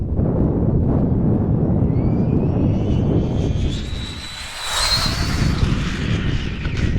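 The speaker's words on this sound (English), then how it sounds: "Let's try to go for a pretty fast one here. Over that bump and easing on the throttle." Traxxas Slash RC car in a 100 mph speed-testing build with a short-course body, its electric motor whining up in pitch as it accelerates, over heavy wind rumble outdoors, with a brief dip before the whine returns.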